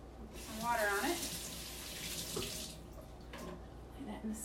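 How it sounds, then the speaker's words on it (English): Tap water runs onto chalk-decorated Valentine decor held in a sink, a broad steady splash that swells early and then settles, with faint sounds of handling toward the end. "Put some water on it."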